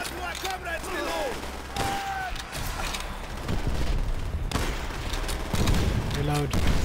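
Gunfire in the Call of Duty Vendetta mission of a video game, with repeated rifle and machine-gun bursts, distant explosions, and battlefield voices shouting over the steady combat din.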